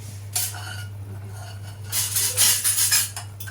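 A pot lid comes off a pot of country chicken curry with potatoes and a metal spoon clinks against the pot, with a few sharp clanks early and a busier run of scraping and clinking later, close by with a steady low hum beneath.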